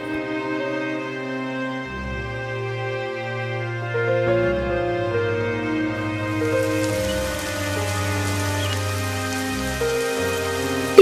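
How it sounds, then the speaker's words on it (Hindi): Rain starts falling over animated background music, a steady hiss of drops that comes in partway through and continues alongside the sustained musical tones. "देखो जी, बारिश शुरू हो गई।"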